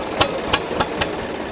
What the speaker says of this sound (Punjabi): 2012 ਮਾਡਲ ਟਰੈਕਟਰ ਦੀ ਟਰਾਈ ਵੱਜੀ ਜਾਂਦੀ ਹੈ